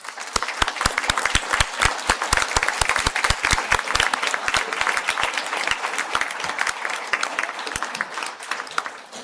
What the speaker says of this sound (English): If I can ask about all the graduates I called on to stand up for a round of applause.